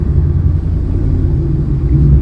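Deep, steady low rumble of a Dodge Hellcat engine idling nearby, loud and continuous with no talking.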